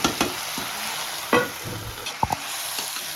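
Cabbage being stirred in a frying pan, a steady soft sizzle with a few sharp scraping and clanking strokes of the spatula against the pan.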